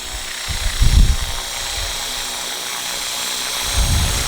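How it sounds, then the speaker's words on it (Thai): An ALIGN 450L RC helicopter lands on its own, its rotor whirring steadily while low thumping pulses swell and fade as it settles. "ลงจอดเป็นอัตโนมัติ"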